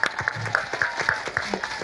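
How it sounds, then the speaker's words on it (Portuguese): Scattered clapping from a studio audience, moderately faint, with individual claps standing out against a soft crowd murmur. "por favor, muitos aplausos"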